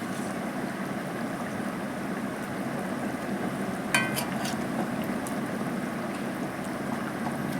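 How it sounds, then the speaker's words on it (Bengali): Thin Bengali fish curry broth with bata fish and mixed vegetables bubbles at a steady boil, a continuous close hiss and simmer with a brief clink near the middle. "ঝোলটা ফুটে যাচ্ছে"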